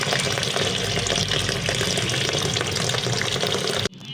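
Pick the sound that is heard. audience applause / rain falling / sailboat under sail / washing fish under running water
washing fish under running water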